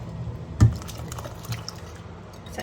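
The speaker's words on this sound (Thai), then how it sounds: "ขออนุญาตใส่น้ำปู" Pounded crab juice poured into a pot of Thai gaeng liang curry with shrimp and vegetables, a brief splash followed by soft dripping and liquid trickles, close and fairly quiet.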